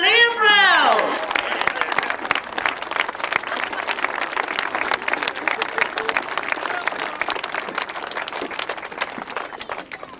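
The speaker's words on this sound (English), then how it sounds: "So I'm hoping that we get a very big round of applause for some very worthy winners of the 2014 British Masters." At a 2014 British Masters grasstrack racing presentation, a crowd breaks into loud, prolonged applause for the winners right after a short announcement, the clapping holding strong and even for several seconds.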